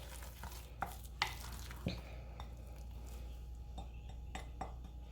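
A spoon working garlic cheese drop-biscuit dough in a bowl, with soft scraping and a few sharp clinks against the bowl over a low background hum, quiet and close, no talk.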